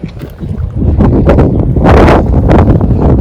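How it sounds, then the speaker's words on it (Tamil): Strong gusts of wind blow through a spring front-yard vegetable garden with mulched beds and eggplant plants, a loud continuous rushing buffet on the microphone that swells toward the middle. "நல்லா காற்று அடிக்குது."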